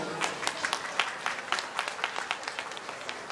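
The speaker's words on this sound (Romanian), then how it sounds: "Aplauze de încurajare, vă rog." Encouraging applause from an audience at a junior sports ball launch, a modest round of scattered, distinct hand claps, fairly quiet, with a crowd murmur beneath.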